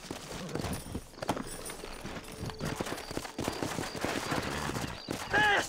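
Horse hooves gallop in Red Dead Redemption, a steady rapid clatter mixed with game noise and ambience throughout, fairly loud and continuous.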